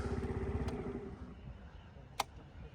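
A Suzuki Lets G scooter engine starts and idles, a rapid low putter that settles to a quieter steady run, close by, with a sharp click near the end and no talk.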